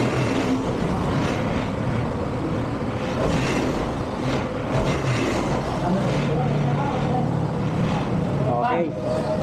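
Honda ADV150 scooter engine running after a tune-up with a cleaned throttle body and new fuel filter, a steady close idle hum throughout with people talking over it in a workshop.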